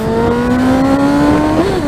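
A Kawasaki ZX-6R sport motorcycle engine hums loud and close at a steady, gradually rising pitch with a brief blip near the end, heard alone.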